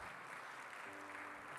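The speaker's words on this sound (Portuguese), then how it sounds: "peço até uma salva de palmas para ele agora" Audience applause in a lecture hall after a tribute, a steady wash of clapping at low level with faint murmur and a brief low tone underneath.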